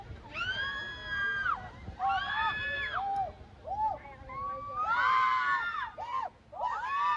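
Crowds of people scream on a carnival ride by the sea, riding waves of shrill, rising shrieks that swell and fade in repeated bursts, some distance away, loud over a murmur of crowd noise.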